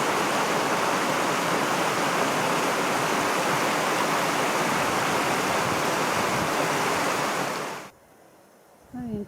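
A river rushes beneath a footbridge on a Peruvian mountain hike, a loud, steady roar of flowing water that cuts off abruptly near the end, leaving a quiet lull.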